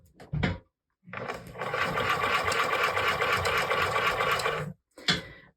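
After a couple of short handling noises, a sewing machine runs in one steady burst for about three and a half seconds while stitching fur mittens with an eighth-inch seam, then stops, followed by another brief rustle.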